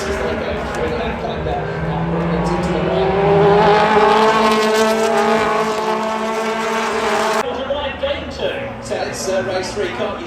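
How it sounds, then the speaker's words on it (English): BTCC touring race cars at Silverstone roar past close together into a left-hander, engines loud and rising then cutting sharply, with a commentator talking over the racing. "So Robotham absolutely trading pain here with the BMW J-Hill as they come into left-hander"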